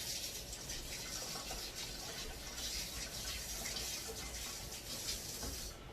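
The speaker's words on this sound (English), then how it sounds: "Whatever stuck to this thing stuck, and I'm going to wash it off so it doesn't stay in there." Running tap water splashes steadily over a sauce-coated whisk in a sink, a constant close rush of flow with no talk.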